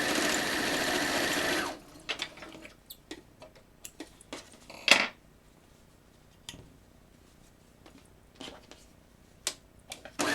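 A sewing machine stitches fabric pieces together in a steady, loud run for the opening two seconds, then stops, leaving quiet handling clicks and light taps with no talking.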